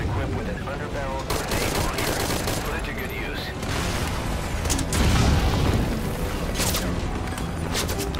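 Turret gunfire in the video game Metal Gear Solid V Ground Zeroes, a dense, loud, continuous barrage of rapid shots and booms with a player talking over it.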